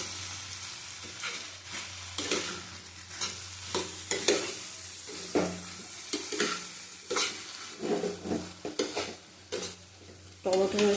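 A tomato, spice and potato mixture sautés in a pan, with a low sizzle under frequent, irregular scrapes and knocks of a spoon against metal as it is stirred.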